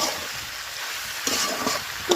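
Old kalonji and fenugreek seeds fry in a pan over a wood-fired clay stove, a steady close sizzle with a few sharper crackles and scrapes of stirring toward the end.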